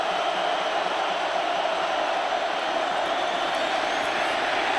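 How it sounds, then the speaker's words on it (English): A football stadium crowd at a Michigan vs Ohio State game roaring as a steady, loud, continuous wash of noise with no distinct peaks. "The crowd's barking."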